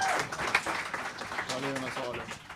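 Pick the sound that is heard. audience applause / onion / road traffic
audience applause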